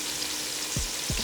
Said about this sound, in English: It's already frying